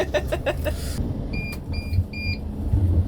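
A car's handbrake-on warning chimes inside the cabin on a road trip on South Australia's Yorke Peninsula, three evenly spaced electronic beeps sounding clearly over a low engine rumble after some brief knocking sounds.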